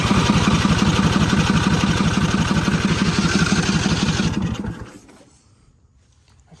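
A turbocharged engine runs loud and close with a fast, even pulsing rhythm for several seconds, then cuts out abruptly and leaves near silence.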